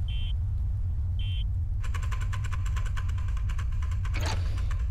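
A vehicle engine starting and running in the video game Nauticrawl: two short beeps, then a buzzy mechanical motor drone kicks in over a constant low rumble and holds steadily, ending with a brief burst.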